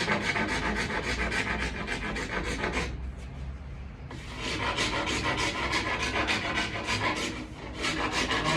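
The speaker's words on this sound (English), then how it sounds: "going to go ahead and sand down really the whole side here" A file rasps back and forth along the side edge of a DIY splitboard, smoothing out bumps in steady close strokes with a brief pause midway, alone without talk.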